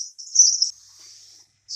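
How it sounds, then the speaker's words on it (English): Sparrows chirping while a mother feeds her young: high, thin bursts of chirping, one brief and fairly close, then a fainter trailing call and a final short chirp. "Mother sparrow is feeding the food to the young ones."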